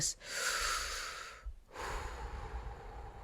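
Breath taken during a heartfelt talk, a long, close, airy inhale, a brief pause, then a slow, breathy exhale, with no voice.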